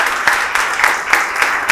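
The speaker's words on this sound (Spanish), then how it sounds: "Le damos un aplauso al Señor por todo lo que Él ha hecho" Church congregation applauding together, a steady wash of claps with periodic swells, loud and close, lasting under two seconds.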